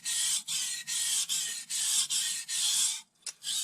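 A kitchen knife is sharpened on a whetstone in long, even rasping strokes, about eight close, loud scrapes each broken by a short pause, ending with a brief gap and a faint tap.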